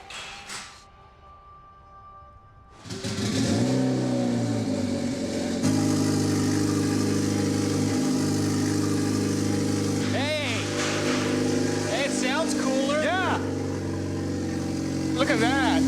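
A modified hybrid car engine fitted with a turbocharger and intercooler cranks and fires up for the first time, settling into a loud steady idle, then revs several times in quick rising bursts, with people talking over it.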